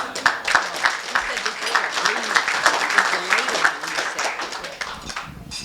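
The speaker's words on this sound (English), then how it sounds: "Let's give her a round of applause." Audience applause at a talk, moderately loud and sustained for several seconds with some voices mixed in, tapering at the end.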